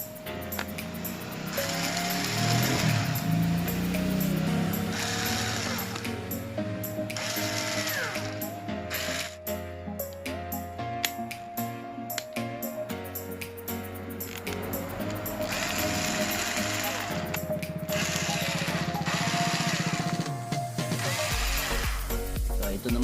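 A Black & Decker cordless drill runs after its battery was repaired, giving a steady loud motor whine with ratcheting mechanical tones that shift pitch now and then.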